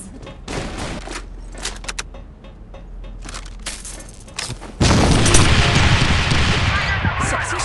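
Grenade blast and gunfire in the mobile shooter CrossFire Mobile: rapid shots and clicks over a low rumble, then a loud broadband explosion that erupts about two-thirds through and stays sustained to the end.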